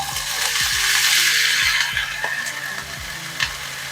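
Frozen cauliflower fried rice sizzles steadily in a hot pan over medium heat, a continuous frying hiss broken by several soft scrapes and knocks as it is stirred.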